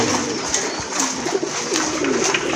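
Blue bar Lahori pigeons coo steadily and close by, with soft overlapping calls and a busy background of other birds and loft noise, no talking.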